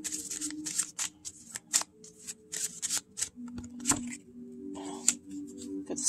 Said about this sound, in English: Let's pull a card from here.